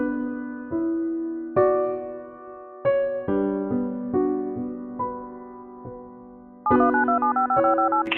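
Electronic telephone tones step through a series of distinct pitches while dialing a restaurant, each tone held briefly before the next, ending in a faster run of short beeps; clear and fairly loud, with no voices.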